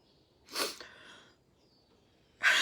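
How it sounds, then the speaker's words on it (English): A single sharp sneeze bursts out nearby, followed by a short breathy exhale, then quiet before another sudden burst at the end. "I gotta sneeze."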